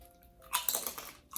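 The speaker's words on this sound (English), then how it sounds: "you can probably hear the crunch." Light, crispy black pepper pork chips being bitten and chewed close up, a short burst of crunching that starts after a quiet half second and fades near the end.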